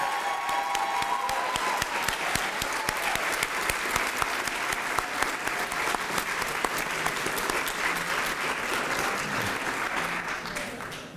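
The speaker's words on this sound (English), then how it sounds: "a round of applause for our Fall" Sustained audience applause at a college transfer ceremony, dense steady clapping from a large indoor crowd lasting throughout, with faint cheers mixed in.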